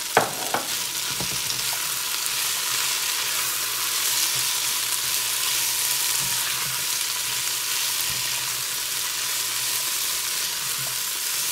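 Chopped onion with onion soup mix sautéing in a pan, a steady loud sizzle and crackle with a couple of sharp utensil knocks at the start and occasional stirring scrapes, no one speaking.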